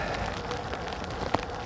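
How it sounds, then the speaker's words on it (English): Soft, steady patter of rain falling on a surface, with one brief sharper tap near the end. "it's definitely raining"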